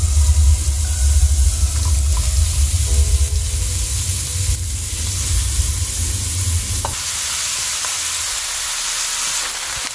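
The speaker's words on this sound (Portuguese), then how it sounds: "coloquei um fio de azeite e vou colocar na panela" Seasoned pork rinds (torresmo) with a drizzle of olive oil sizzle steadily in a pan with a loud, close hiss and some stirring, easing off toward the end.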